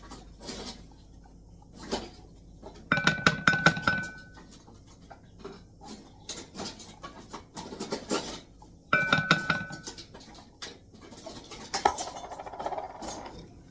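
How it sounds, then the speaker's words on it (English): A spoon stirs milk and butter in a pot, producing scattered clinks and scraping in two louder bursts separated by quieter clatter, close and fairly soft, with no speech. "put it in with the butter and give the butter a stir"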